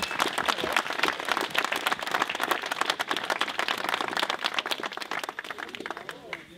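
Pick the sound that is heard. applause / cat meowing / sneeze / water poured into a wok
applause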